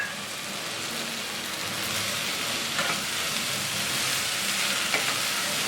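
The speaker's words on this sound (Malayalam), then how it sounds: "വെണ്ടയ്ക്ക ചേർത്ത് 2-3 മിനിറ്റ് നന്നായിട്ട് വഴറ്റി കൊടുക്കണം" Okra sautés in a pan for a pepper masala, giving a continuous close sizzle and crackle with a few faint stirring scrapes and no voices.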